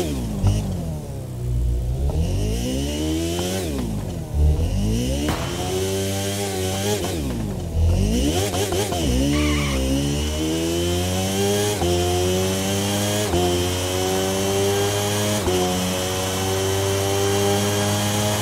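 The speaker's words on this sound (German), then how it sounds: "ich halte einfach mal die Klappe und gebe den vollen Spiel-Sound. Und dann hören wir einfach mal rein, wie die denn hier so klingt, die Augusta" An MV Agusta F4 RR motorcycle engine in The Crew 2 revs hard again and again with rising and falling pitch sweeps, then holds a steady high drone. The sound is loud and constant, with no talk over it.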